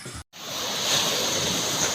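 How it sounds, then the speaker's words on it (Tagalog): Sea waves break on a beach in the Philippines with a broad, continuous roaring wash that swells after a brief silent gap at the start and stays loud and close, with no one speaking. "ang hampas ng alon sa dalampasigan"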